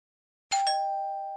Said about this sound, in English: Is that my doorbell?